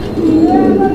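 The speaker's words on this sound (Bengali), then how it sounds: "এটা গররা কবুতর।" A female Gorra pigeon gives a single short, soft, throaty coo close by, a low rolling murmur lasting under a second.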